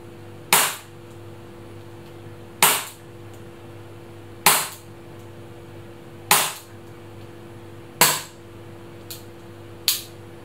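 A WE CT-25 airsoft Colt gas blowback pistol fires five sharp, crisp pops at steady two-second intervals, each with a quick snap, followed by two fainter clicks at the end.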